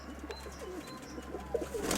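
Pigeons cooing softly in a loft, several low burbling coos repeating over a quiet background hum, with a faint rustle near the end.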